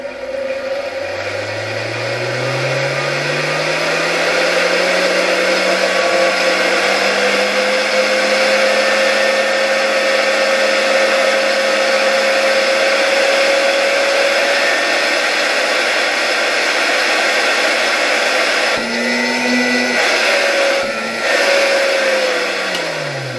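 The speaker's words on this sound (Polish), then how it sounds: "No to włączmy odkurzacz." A loud 1964 Gamma II vacuum cleaner motor winds up from a low whine and runs steadily with a rising tonal hum, briefly stuttering near the end.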